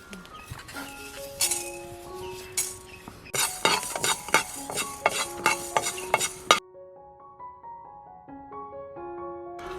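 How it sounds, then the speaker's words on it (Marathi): Fenugreek seeds being dry-roasted in a pan for homemade Konkani-style mango pickle, with repeated metallic scraping and clinking of a spoon against the pan, busy for several seconds and then quieter with faint tonal background. "पहिले मेथीचे दाणे भाजून घेते"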